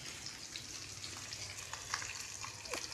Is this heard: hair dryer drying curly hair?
no